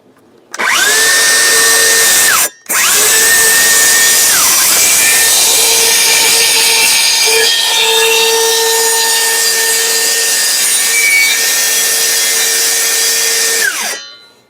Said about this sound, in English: I'm going to cut these corners here with the jigsaw